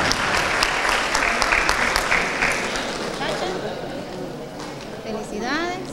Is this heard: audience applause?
yes